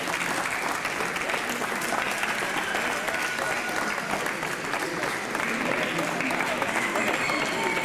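Sustained audience applause at a poultry show award ceremony in Albelda de Iregua, dense even clapping from a crowd with voices mixed in.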